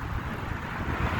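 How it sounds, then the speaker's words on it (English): Steady wind buffeting the microphone while cycling slowly uphill on a bike ride through woods on Long Island, a continuous loud rumbling roar with no talk. "You could probably hear the wind."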